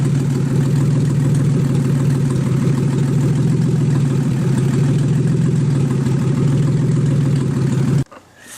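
A BMW S52 engine with a fully forged build, running with no catalytic converters, exhaust or headers, idles steadily and loudly at close range for about eight seconds before cutting off abruptly.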